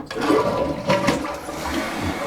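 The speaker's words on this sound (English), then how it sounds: "Tank's full, we can go ahead and flush it." A newly installed toilet flushing in a remodeled bathroom, a close, loud gurgling rush of water with swirling surges and a draining gulp, with no talking.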